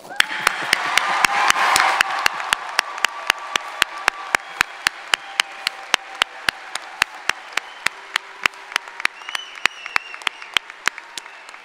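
Commencement audience applause at a university ceremony, a full burst of crowd clapping that thins into sparse, sharp individual claps ringing out steadily near the microphone.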